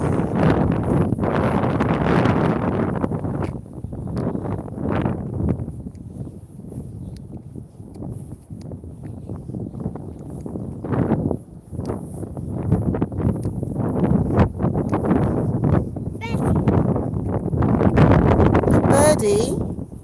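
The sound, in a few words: wind blowing in Scottish countryside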